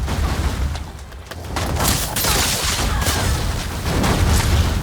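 A loud volley of blades fired out with a fire ability in the Blade and Sorcery Bladedancer knife mod, heard as a dense, sustained roar of whooshing bursts and booming impacts that swell steadily over several seconds.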